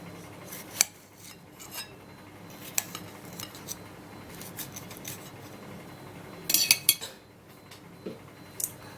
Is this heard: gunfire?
no